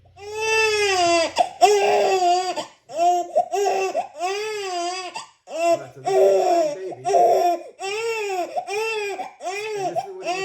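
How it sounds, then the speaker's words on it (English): An infant wails loudly and insistently in repeated rising and falling cries, broken by short gasping pauses, with no other voices. "Crying baby."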